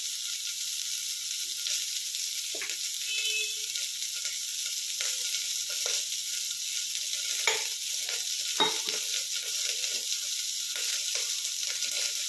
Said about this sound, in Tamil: கருவேப்பிலை, காஞ்ச மிளகா நல்லா வறுபடட்டும்.